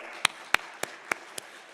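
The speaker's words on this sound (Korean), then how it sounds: "사랑과 격려와 칭찬의 박수 한번 보냅시다" Five sharp, evenly spaced claps from a church congregation during a Friday worship service, quick and fairly faint, like the tail end of applause.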